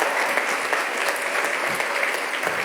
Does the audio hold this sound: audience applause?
yes